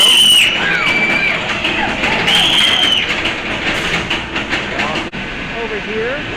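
The Afterburn suspended roller coaster train at Carowinds rumbles and clatters past with rhythmic thumps and a high metallic squeal, crowd noise and voices mixed in, fairly loud and close.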